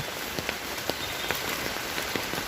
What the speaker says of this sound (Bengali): আজকেও বৃষ্টি হইতে আছে।